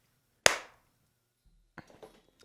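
A single sharp hand clap follows a countdown, loud and close, then brief faint rustles and small knocks.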